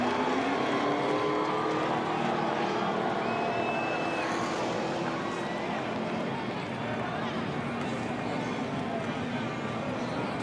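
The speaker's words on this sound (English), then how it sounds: "Bobby Labonte's going to do us a few donuts here." Stock car engine roaring and revving as Bobby Labonte spins donuts after the 2003 Bass Pro Shops 500 NASCAR race, a steady loud drone with a race commentator talking over it.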